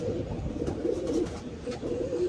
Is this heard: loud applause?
no